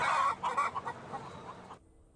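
Chickens at a poultry farm cluck in short, close, moderately loud bursts that thin out and stop toward the end.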